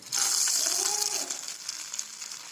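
Hot tempering with green and red chillies hits cooked dal for a chutney, setting off a loud, close, hissing sizzle that starts abruptly and keeps crackling as it slowly eases, with no talking.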